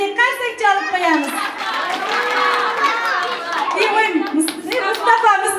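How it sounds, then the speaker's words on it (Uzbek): Young children in a first-grade classroom alphabet celebration clap for a classmate who won, the patter mixed with loud, excited children's voices and chatter throughout. "Azbek qarsak chalib qo'yamiz"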